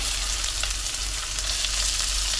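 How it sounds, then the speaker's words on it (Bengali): Shrimp frying in a pan sizzles with a steady, close, loud hiss as chopped onion goes in, with no talk. "দেখুন, এখন এতটার মতন ভেজেছি, দিয়ে এখন আমি পেঁয়াজটাকে দিয়ে দেবো।"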